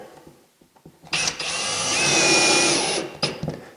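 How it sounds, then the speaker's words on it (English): A cordless power drill drives a screw into a faux stone wall panel indoors, a single loud, close whir lasting about two seconds, with a few faint clicks and shuffles before it and brief handling noise after. "I'm just going to put 4 screws in"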